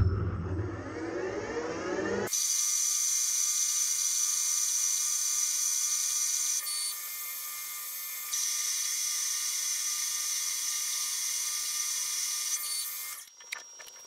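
A PM 1440TL metal lathe takes heavy roughing cuts on a hybrid front wheel hub, giving a steady, loud high-pitched machining whine that shifts tone briefly midway and cuts off near the end.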